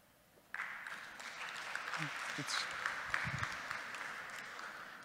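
A conference audience on sharing mobility answers a poll with a faint, distant patter of applause that begins suddenly and holds steady, with a few murmuring voices underneath.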